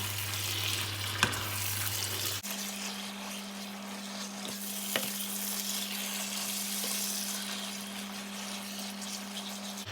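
Marinated beef stir-frying in a pan gives a steady, soft sizzle throughout, close by but fairly quiet, with a low continuous hum in the background and a couple of faint knocks; no one speaks.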